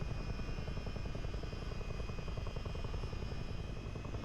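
Steady, loud helicopter rotor drone with a dense chopping texture from a counter-rotating helicopter in Microsoft Flight Simulator, continuous throughout with no talk.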